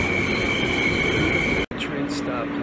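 A loud, steady roar of a New York City subway train in a tunnel with a high whine, cut by a brief silence as the train stops, then a quieter rumble with a voice.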